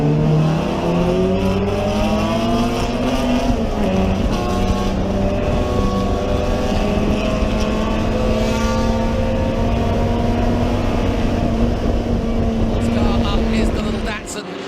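Vintage race cars in an SVRA Group 8 and 12b race at Circuit of the Americas, including Jim McDavid's little Datsun 05, roar steadily with shifting engine pitch under continuous commentary.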